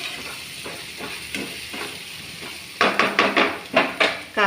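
Spices and asafoetida sizzle in hot oil for a bitter gourd tamarind curry, kakarakaya pulusu, a steady hiss broken by repeated scraping stirs that grow louder and quicker toward the end.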